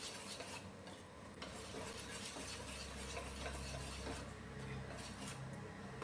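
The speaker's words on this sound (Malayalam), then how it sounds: "ഇതിപ്പോൾ ഞാൻ ഈ വിസ്കോച്ച് ഒന്ന് മിക്സ് ചെയ്യുകയാണ്." A whisk mixes wheat appam batter in a bowl, producing a faint, continuous swishing and light tapping rhythm, quiet and close, with no talking.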